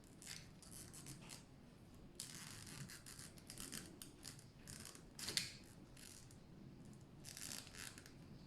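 A blade cuts a heart shape into a cork stopper with quiet, scratchy scraping and crisp cuts in short irregular strokes, close and faint, with a small sharp snap midway.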